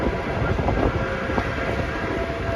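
Steam locomotive 765 running, a steady broadband rumble and roar that holds constant at close range throughout, with no voices.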